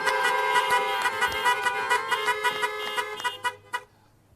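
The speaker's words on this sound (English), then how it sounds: "a truck-based rally of people honking horns in the Nicola Valley" Truck horns honking at a roadside resource-community rally in the Nicola Valley, several overlapping sustained blasts with pulsing toots layered together, loud and continuous before cutting off near the end.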